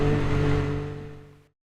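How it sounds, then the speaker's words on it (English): A Can-Am X3 side-by-side fitted with a new exhaust idles with a steady, loud, low droning hum that fades away and cuts off abruptly. "I don't really think the Can-Am sounds that good at all, ever"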